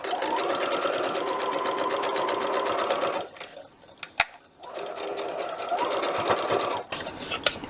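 A sewing machine stitches quilt pieces in two long, close, steady runs of rapid needle whirring, with a brief pause between them filled by faint handling clicks.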